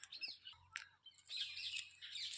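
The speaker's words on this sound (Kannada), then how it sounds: "ಪಕ್ಷಿಗಳ ಸೌಂಡು ಇದು." Small birds chirping and tweeting in a farm garden in the late afternoon, several quick high calls overlapping, fairly faint and open-air with a low hum beneath.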